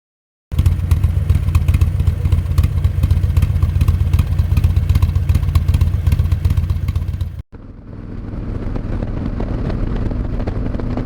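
A 1998 Harley-Davidson Electra Glide fitted with an Andrews EV13 cam roars loudly and continuously on a test ride, with a brief cut midway before the steady engine rumble resumes, no talking over it.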